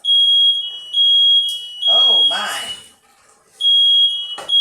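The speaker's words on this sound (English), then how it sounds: "So now I gotta go deal with the smoke alarm" A loud, piercing smoke alarm, set off by oven cooking in a kitchen, beeps in long repeated tones, pausing briefly while someone speaks a short exclamation.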